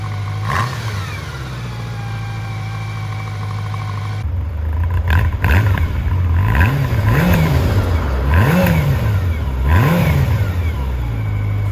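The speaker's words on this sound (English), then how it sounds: "I love the sound of the Nighthawk. I think it's a beautiful bike. I really like the rev sound of it." A 1992 Honda Nighthawk CB750 motorcycle engine idles close by, then is blipped repeatedly, rising and falling in rhythmic rev bursts of steady loudness.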